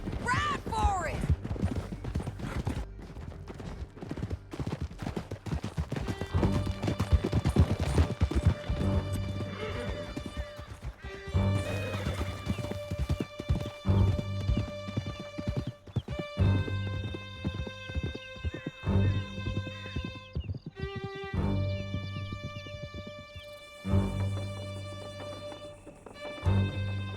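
Horses galloping in Red Dead Redemption 2, with a rapid, steady clip-clop of hooves close by, repeated neighs and whinnies, and occasional crashing bangs, while people talk over the riding.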